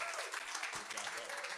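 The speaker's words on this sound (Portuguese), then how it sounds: "Salva de palmas para o Aldo Clécius." An audience bursts into dense, steady clapping throughout, loud and close, with no other sound rising above it.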